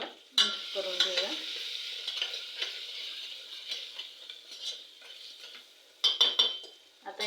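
A spoon scrapes and stirs spices into masala rice frying in a pan, with soft sizzling and repeated metallic clinks against the pan, close and steady.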